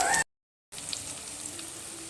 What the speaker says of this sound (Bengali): হলুদ আর নুনটা দিয়ে আবারও সবজির সঙ্গে এইভাবে করে ভেজে নিচ্ছি